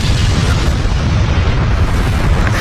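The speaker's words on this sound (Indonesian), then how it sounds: "tiba-tiba terdengar suara ledakan dari belakang Haruta" A loud, sustained booming explosion effect rumbles with heavy low-end roar throughout, from an anime recap of a Jujutsu Kaisen battle, with no voices over it.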